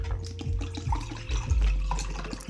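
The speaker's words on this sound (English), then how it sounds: "Let me pour some water in the cup." Water is poured, splashing and gurgling in short bursts, with low thumps and dripping sounds close by.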